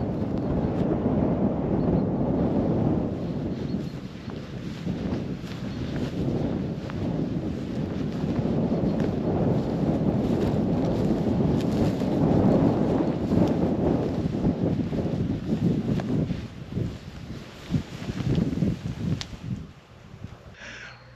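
Strong wind blusters against the microphone in a constant low roar by the sea on the Danish coast, with gusts rising and falling and a lull near the end.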